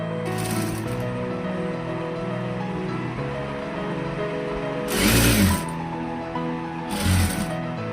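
A sewing machine stitches lace onto the back neck of a blouse, giving a steady close mechanical whirring hum with two short louder bursts of rapid stitching near the end.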